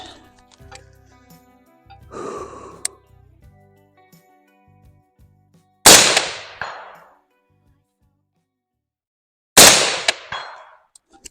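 A budget DMR rifle fired outdoors at a small 8x8 steel plate, giving two loud, sharp shots several seconds apart, each with a ringing decay, plus a softer shuffle of handling earlier and no talk.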